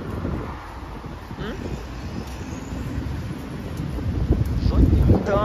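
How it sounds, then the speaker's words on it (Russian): Strong wind buffets the microphone outdoors on a rainy street, a constant rumbling roar that swells louder toward the end. "Ветер, правда, такой сильный."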